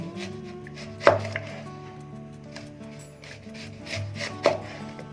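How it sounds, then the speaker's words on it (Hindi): A knife cuts through an onion, slicing it into rings for crispy fried onion rings. Two sharp, close cuts land a few seconds apart over a steady low hum, with no talking. "इसी तरह काटना है, तभी ये रिंग निकाल लेंगे इसके प्याज के।"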